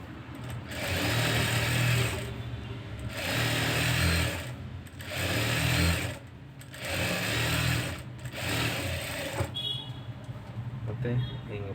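A sewing machine stitches piping on a blouse in several bursts of steady whirring, each a couple of seconds long, with short pauses between them and someone talking over and between the runs.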